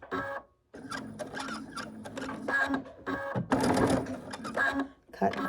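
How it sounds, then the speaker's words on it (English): A sewing machine runs in short bursts while back stitching a fabric apron, a loud rapid mechanical whirr that starts and stops with brief pauses, close up. "When I get to this point, I am going to back stitch."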